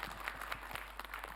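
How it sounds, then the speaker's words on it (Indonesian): Faint, distant applause from an audience at an Islamic religious talk, a steady patter of many hands clapping together with a low hum underneath. "Mohon izin waktunya, tepuk tangan buat Ustadz Ahmad Khan"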